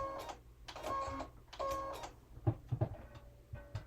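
A sewing machine zigzag-stitches lace onto denim from jeans, sounding as close, rhythmic bursts of rapid mechanical whirring separated by short pauses, followed by a few sharper clicks and knocks near the end.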